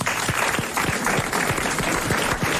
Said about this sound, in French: Eh bien, vous applaudissez comme elle le mérite